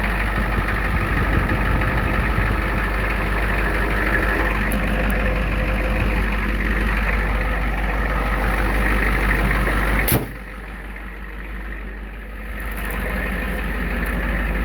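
Old lifted pickup truck engine idling with a steady low rumble, then cut off abruptly partway through, leaving quieter background before faint sound returns.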